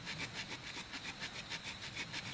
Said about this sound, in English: this here stick I'm sawing in half here